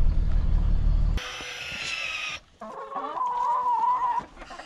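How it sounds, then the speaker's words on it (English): Chickens cluck and squawk nearby, a few birds calling in short bursts after a loud rumbling noise at the start. "Let's go let the chickens out."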